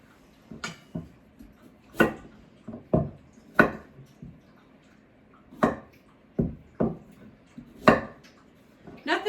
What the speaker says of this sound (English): just slicing a vegetable